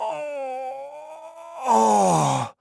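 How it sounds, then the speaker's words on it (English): A drawn-out vocal groan, starting low and steady, then swelling louder and rougher before stopping abruptly. "groan"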